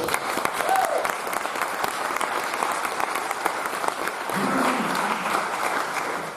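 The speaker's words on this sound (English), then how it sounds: "Let's give Simon a round of applause." Sustained, full applause rises from an audience at a rhino charity gala, a dense even wash of many hands with murmuring voices mixed in throughout.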